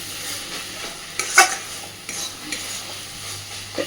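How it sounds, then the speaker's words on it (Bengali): Elephant foot yam stalks frying with egg in a pan are stirred, giving soft scraping and spatula knocks over a low, steady sizzle, with one louder clatter partway through and no voices. "এবার আমি খুব ভালোভাবে আবারও একবার নাড়াচাড়া করে দিয়ে গ্যাসের ফ্লেমটাকে অফ করে দেব"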